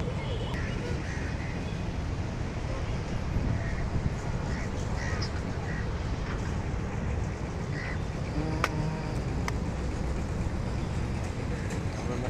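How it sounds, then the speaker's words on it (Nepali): Crows caw repeatedly near Thapathali Bridge by the river, their calls scattered over a dense, steady wash of outdoor background noise with occasional voices. "सिगलको सट्टा काग मात्र छन् यहाँ"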